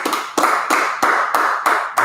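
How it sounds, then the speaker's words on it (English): Clapping at the close of a class at a Palm Beach, Florida gathering: sharp, evenly spaced claps about every third of a second, fairly loud and close, with no talking over them. "Go ahead and clap it up, get the Most High hand."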